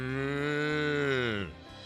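A single long, drawn-out cow moo from a cow standing in a paddock, loud and close, with a steady harmonic tone that bends downward and cuts off near the end, followed by a brief quiet tail.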